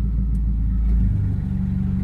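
A 2000 Honda Accord VTiL manual with a custom exhaust idles steadily, a close, deep, even rumble that runs alone with no speech.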